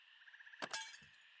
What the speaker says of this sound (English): Okay, so I cleared away the broken glass.